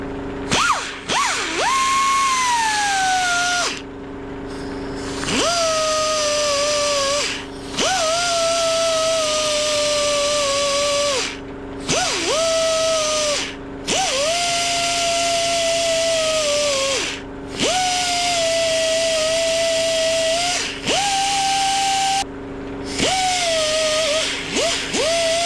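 Belt sander fitted with a worn-out belt smoothing a scuff on a Suzuki RM250 swingarm, running in repeated whining passes of a few seconds each, with a short drop in pitch and brief pauses between strokes, loud and close with no talk.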